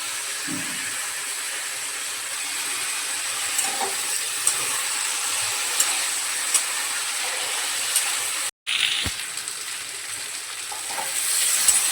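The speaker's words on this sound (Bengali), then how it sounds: "আলুটাকে সামান্য লবণ আর হলুদ দিয়ে ভেজে নেব।" Potatoes fry with salt and turmeric in a pan, a steady close sizzle and hiss running throughout, with a few soft stirring knocks and a brief dropout near the end.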